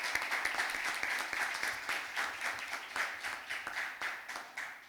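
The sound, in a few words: applause for the best speakers at a school debate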